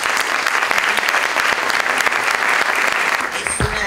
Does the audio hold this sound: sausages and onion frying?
no